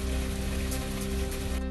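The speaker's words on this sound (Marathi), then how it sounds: "2 दिवसांच्या विश्रांतीनंतर पुन्हा जोरदार पाऊस." Heavy rain pours down steadily in a dense, even hiss of drops, constant and fairly loud throughout with no voices.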